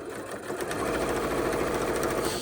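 Close and steady, a sewing machine stitches quilt binding down with a fast, even mechanical rattle that holds for a couple of seconds without interruption or speech.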